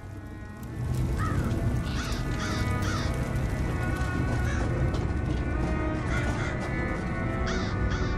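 A crow caws repeatedly in the video game Elder Scrolls Online, Clockwork City: about seven distinct, fairly close caws spaced across a steady, dense ambient game background.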